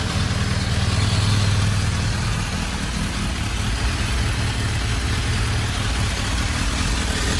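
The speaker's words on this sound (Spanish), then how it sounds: "voy a quitar las luces para el arranque y le damos a este botoncito que está" A Kawasaki GPZ 1100 café racer motorcycle engine runs at a steady idle, a close, loud, even rumble with no talk.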